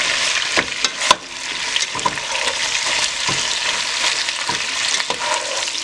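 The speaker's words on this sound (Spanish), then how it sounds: "Ya está bien frita nuestra carne, ya le agregamos la cebolla en rodajas" Sliced onion rings sizzling in a pan with fried beef ribs, a steady crackling fry punctuated by several sharp utensil clicks and stirring.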